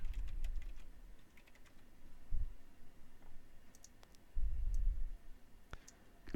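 Mouse clicks in a spreadsheet while a chart is edited: sharp, scattered clicks, some in quick pairs, with occasional low thuds and quiet gaps between them.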